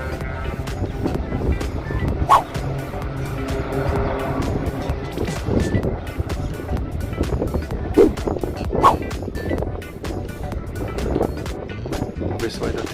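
Small airplane engines roar at full takeoff power during a strong-wind departure at Sorocaba, a steady, loud, broadband drone with a few sharp bumps, while a person talks over it.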